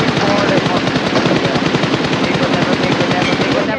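Sustained rapid machine gun fire from the BGMI battle royale game, loud and continuous bursts with no pauses, with a faint voice underneath.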